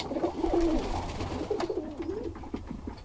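Birmingham Roller pigeons coo softly in a loft in a low, rolling rhythm, several overlapping calls close by, with light rustling and shuffling in the background.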